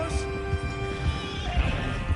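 A horse in a video game whinnies loudly and close, with a long, wavering neigh over soft hoof clip-clops and a steady background hum of game sound.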